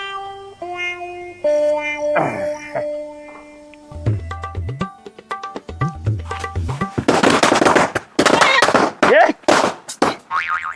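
Springy boing sounds give way to a loud, rapid string of Diwali firecracker bangs crackling in quick succession near the end.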